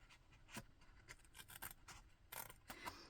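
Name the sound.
small scissors trimming excess card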